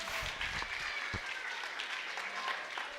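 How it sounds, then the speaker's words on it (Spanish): Children's audience clapping at a character-building workshop, a faint, steady wash of applause with a few close thumps. "Un aplauso para ustedes"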